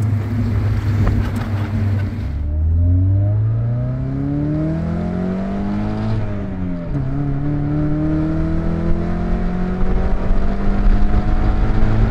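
A high-mileage Mazda Miata engine revs hard, its loud drone climbing steadily in pitch, then bouncing off the rev limiter before settling into a steady cruising roar.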